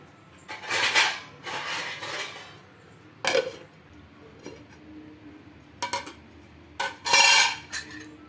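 Garlic wheat dosa batter being mixed in a bowl, with several bursts of utensil scraping and clinking against the bowl separated by quiet pauses, close and fairly loud.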